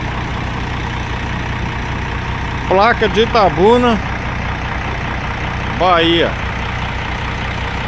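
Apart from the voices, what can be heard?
Mercedes bus engine idling rumble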